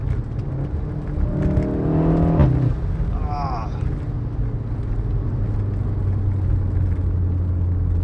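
Inside a VW Golf 7.5 R with a DSG gearbox, the engine drones steadily and rises in pitch as it pulls through the gears, with a brief whine partway through, the low rumble carrying on alone without talk.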